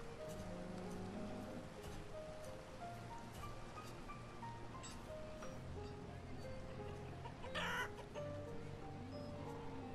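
Chickens clucking in the village-building game Banished, scattered soft clucks and calls over a quiet ambient backdrop, with a short louder rustle near the end.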